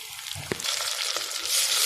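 Chicken liver frying in a pan, a steady broadband sizzle with a few sharp pops and crackles, loud and close, swelling near the end, with no voices.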